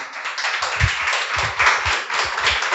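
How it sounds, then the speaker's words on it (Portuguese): Congregation clapping in a church service, a burst of uneven hand claps rising and spreading across the room, fairly close and loud. "Você pode aplaudir a Jesus?"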